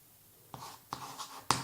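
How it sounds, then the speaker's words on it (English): Handwriting "n factorial" during a proof that pi is irrational, three quick pen or marker strokes tap and scratch against the writing surface, close and quiet, the last stroke sharpest. "I'm going to write down n factorial"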